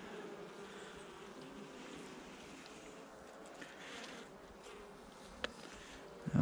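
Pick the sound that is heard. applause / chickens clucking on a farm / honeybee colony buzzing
honeybee colony buzzing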